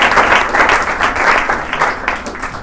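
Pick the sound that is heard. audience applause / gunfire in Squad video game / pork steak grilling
audience applause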